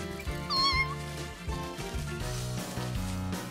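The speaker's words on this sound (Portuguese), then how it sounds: "é apenas um gatinho cinza que queria se aquecer perto do fogo" A grey kitten gives one clear, high meow over cheerful background music.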